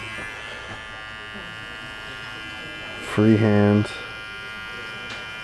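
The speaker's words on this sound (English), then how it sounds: "I'll go over that with my clipper." An electric hair clipper runs in a barbershop, giving a short, loud buzzing burst of under a second against a quiet room, with someone speaking briefly before it.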